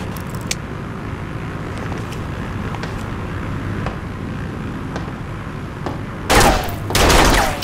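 Gunfire in the video game Serious Sam 4 played on an Xbox Series S, a low steady rumble with scattered faint shots, then two loud bursts of fire near the end.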